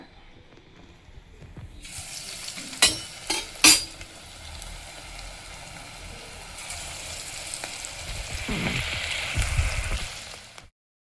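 Potato chakli dough dropped into hot oil sets off a broad, steady sizzle that swells and lingers, close and fairly loud, with a few sharp clinks of a utensil early on and no talking over it.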